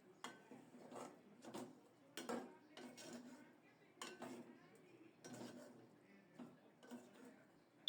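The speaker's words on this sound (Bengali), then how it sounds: "সজনে ডাঁটা তরকারির সাথে একটু ভালো করে মিশিয়ে দিলাম" Drumsticks are stirred into a fish curry in a pot, with repeated soft clinks and scrapes of a spoon against metal in an irregular rhythm, close and fairly quiet.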